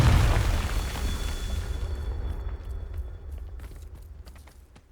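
A Confringo blasting spell explodes in a Harry Potter video game, with a loud, deep boom at the start that rumbles and slowly fades over several seconds.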